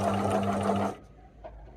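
A sewing machine stitches free motion embroidery in a fast, steady, close burst lasting just under a second, then stops abruptly and leaves near silence with a faint click.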